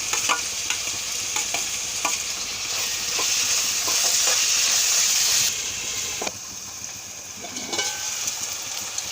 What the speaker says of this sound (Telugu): ఇప్పుడు టమాటా ముక్కలు కట్ చేసి పెట్టుకున్నాం కదండి, అవి కూడా వేసి మగ్గనిద్దాం.